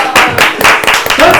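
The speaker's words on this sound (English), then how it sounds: "Don't fucking clap for that." A small group of people claps briefly in a podcast studio, a short burst of close, loud hand claps mixed with voices talking over them.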